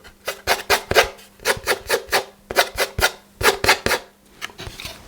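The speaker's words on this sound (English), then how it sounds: "I can scratch on this side." Rhythmic rasping scratches on a wooden violin plate during violin making, close and distinct, in quick bursts of strokes with brief pauses between groups.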